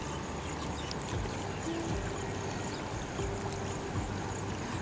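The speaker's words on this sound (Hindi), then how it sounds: "देखो पानी केते स्पीड रे आसुची" Fast water released from the Hirakud reservoir rushes in a steady, dense broadband roar with no pauses, close and fairly loud, with a faint low hum and occasional tonal whines threaded through it and no talking.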